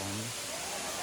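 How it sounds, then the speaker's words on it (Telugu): Waterfall at Araku Valley with water pouring down from the hill: a steady, dense rushing roar filling the whole clip, with a brief voice murmur at the start. "కొండ పైనుంచి వస్తుంది వాటరు."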